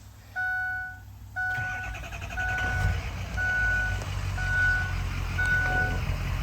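A 2004 Ford Excursion Eddie Bauer with a 6.0L Powerstroke diesel engine is warm-started; chimes sound first, then the diesel cranks, catches and settles into a steady idle under repeating warning beeps.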